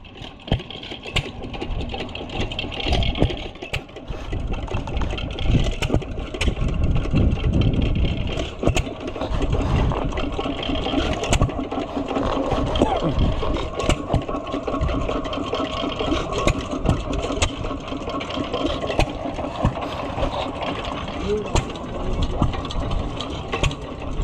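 A small antique Domestic side shaft engine runs at an outdoor antique machinery show. It chugs steadily with a continuous rhythmic mechanical clatter at moderate distance, and no one speaks over it.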